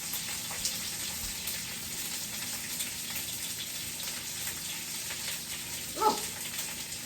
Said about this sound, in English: y'all hear this sizzle over here, don't you?